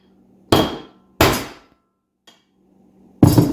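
A hammer smacks the side of a U-joint being replaced: three loud, ringing metal strikes with a small tap between the last two, each clang decaying quickly into quiet.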